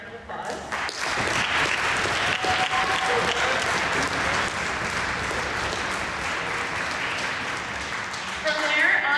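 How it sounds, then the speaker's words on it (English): At a spring school concert, an audience applauds in sustained, fairly close clapping for several seconds while voices murmur underneath, and the clapping picks up again at the end. "stand for a round of applause"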